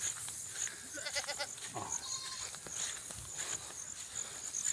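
Several goats bleat in a rural field, with a few short, quavering calls close by against a soft outdoor background of insects, and a brief voice heard once.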